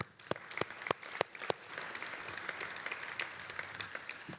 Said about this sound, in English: all of you should give all of yourselves a round of applause for being great medical entrepreneurs